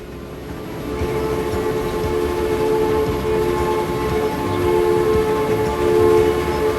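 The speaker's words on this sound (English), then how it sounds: "I'm using the horn, come on." A sustained train horn in the Transport Fever 2 video game, with a steady harmonic drone holding loud and continuous throughout over a rumbling engine bed.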